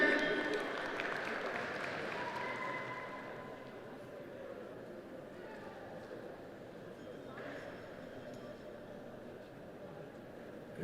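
A crowd at a Vovinam Viet Vo Dao World Cup medal ceremony claps in sustained, fairly distant applause that slowly thins, with a voice speaking over it.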